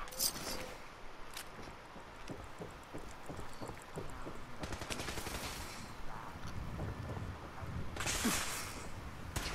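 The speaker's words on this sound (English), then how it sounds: "Who the hell is shooting" Bursts of gunfire in the video game Fallout 4, with repeated sharp shots and rapid automatic volleys over a busy game soundscape, loud and close, with talk mixed in.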